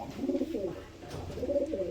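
Pigeons coo in a coop at a pigeon sale, a steady low rolling cooing from several birds close by, with no talk.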